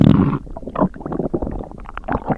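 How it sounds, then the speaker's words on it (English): A hungry stomach growls and gurgles in a series of uneven, bubbling rumbles, close up and fairly loud, following a short burst of louder sound at the start. "Why is my stomach growling louder?"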